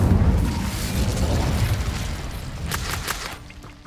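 Incendio fire spell bursts in Hogwarts Legacy, a loud rumbling whoosh of flame with crackling pops, trailing into a few sharp impacts before fading out, no voices.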